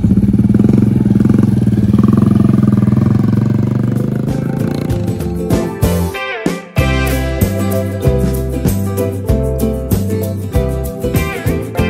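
A motorcycle engine close by, first a steady rough running note, then revved in a series of sharp, evenly spaced throttle blips that rise and fall.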